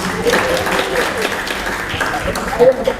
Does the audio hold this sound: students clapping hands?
yes